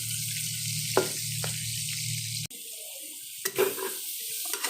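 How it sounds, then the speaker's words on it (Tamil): Onions sautéing in an oil-filled pan with cinnamon, cloves, red and green chillies, a steady close sizzle broken by a few stirring scrapes and a sudden shift as the pan is stirred, with no talk. "ஆனியன் போட்டுச்சு. ஆனியன் நல்லா வதங்கி வரட்டும்."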